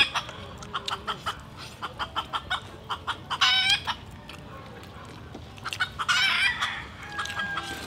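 A run of rhythmic, evenly spaced clucks from nearby native chickens outdoors, broken by a couple of longer, louder squawking calls over faint background noise.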